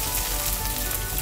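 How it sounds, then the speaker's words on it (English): Curry leaves sizzling in hot oil in a small pot, a brief dense crackling hiss, close and steady, with no talk. "I'm adding the curry leaves first"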